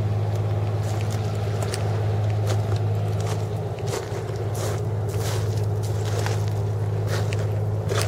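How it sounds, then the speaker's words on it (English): A steady low engine drone of a pilot boat runs throughout, with faint splashes and knocks on top and no voices. "That's a pilot boat?"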